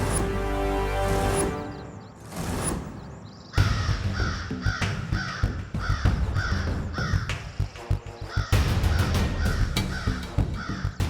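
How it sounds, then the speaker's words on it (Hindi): A crow caws again and again, loud and close, in harsh rhythmic calls over a busy, clattering background, with a music-like tone at the start. "वो रास्ता है त्रिनेत्री काक पक्षी।"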